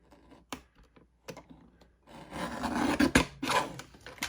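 A paper craft piece is trimmed with a sliding paper trimmer, a few sharp taps, then a close scraping rasp as the blade runs along the edge.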